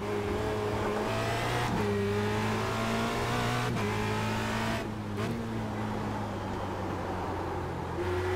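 Formula Renault race car engine at Zandvoort in iRacing, a loud sustained high-revving drone heard from the cockpit, with pitch rising through the gears and dropping briefly at each of several upshifts.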